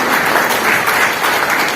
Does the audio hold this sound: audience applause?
yes